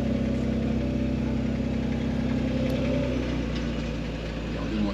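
A Kia Stinger GT idling, a smooth, deep, steady engine drone heard close up with an even tone throughout and no voices.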